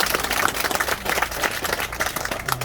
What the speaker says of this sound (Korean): 우리 모두 큰 박수 부탁드리겠습니다